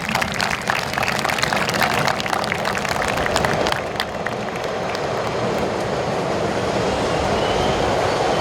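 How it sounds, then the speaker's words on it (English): A train rolls past outdoors at a high school graduation ceremony, a loud steady rumble with rattling wheels and clatter that holds throughout and eases slightly toward the end. "we had to wait for the train too."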